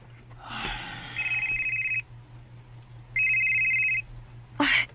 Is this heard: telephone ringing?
yes